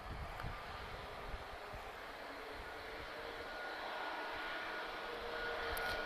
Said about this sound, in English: I didn't realise this Ryanair was coming in then